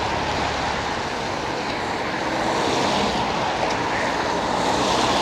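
Steady, loud road traffic rolls across the Tyne Bridge in the rain, a continuous broadband roar and hiss of tyres on wet pavement with no breaks, close to the listener.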